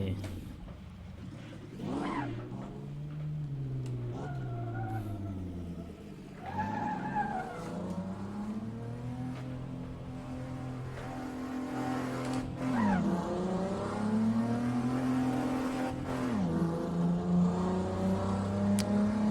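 A pickup truck engine in the racing game Assetto Corsa revving and changing pitch repeatedly, with tire skids and squeals, and a voice talking intermittently over it.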